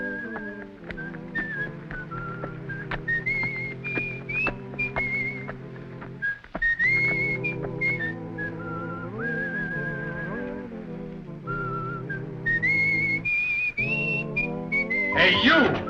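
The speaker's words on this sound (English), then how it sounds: "You the guy that was whistling?" Someone whistles a lilting melody, clear and close, with sustained notes sliding between pitches over a soft instrumental backing.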